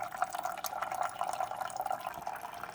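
Water streams and drips from a freshly cleaned Keurig K Classic coffee maker into a cup, a steady close trickle with light splashing, heard alone.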